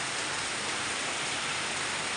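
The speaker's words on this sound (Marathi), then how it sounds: "अशा प्रकारे पावसाने सुरुवात जोरदार केली आहे" Heavy monsoon rain pours steadily in Rajapur, a dense, even hiss of downpour drumming on surfaces and close around the listener, with no voices or breaks.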